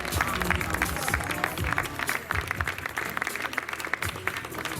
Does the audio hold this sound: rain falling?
no